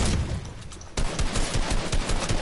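Rapid automatic gunfire in the video game Fortnite, loud and continuous with dense repeated shots and a brief lull partway through.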